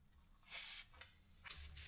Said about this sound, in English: Spray WD-40 on the hub bolts.